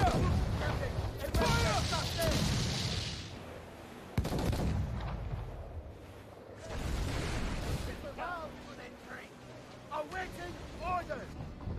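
Ship cannons boom in a naval battle in Assassin's Creed Freedom Cry, several heavy blasts at irregular intervals with rumbling tails, mixed with shouted voices and other game sounds.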